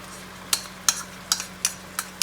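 Spoon stirring a cornstarch mixture into simmering sweet and sour sauce in a pan: six brief, evenly spaced scraping strokes over a faint low hum, close by and with no talking.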